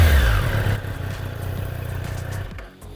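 A Triumph Street Triple 765 R motorcycle engine revving in sport mode, a loud rumbling surge that settles into a steady mid-pitched drone before dropping off near the end, with no talking.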